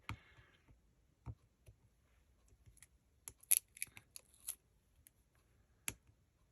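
Packing tape is pulled and snipped during junk-journal crafting, with sparse, close clicks and sharp crackling snaps, a brief squeaky rip near the middle, and quiet stretches in between.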